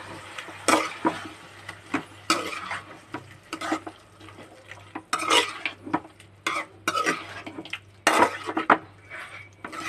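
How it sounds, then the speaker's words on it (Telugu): A spoon clinks and scrapes against a metal pot in irregular bursts while a spice mix with ginger garlic paste is stirred for chicken curry, close and distinct, with a low steady hum beneath and no talking. "సో ఇవన్నీ బాగా కలుపుకోవాలండి."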